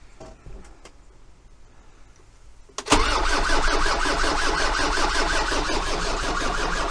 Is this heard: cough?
no